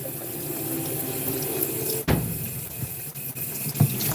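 Hot water runs steadily from a tap into a sink for cleaning a paint roller, a continuous splashing rush with a couple of brief knocks and clunks partway through.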